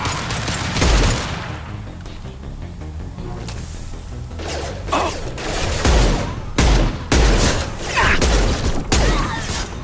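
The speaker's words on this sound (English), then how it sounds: "Firing a high-impact shot!" Gunfire from Mass Effect 2 combat: heavy, high-impact shots crack out in loud bursts and repeated blasts, with mechanical clatter between volleys.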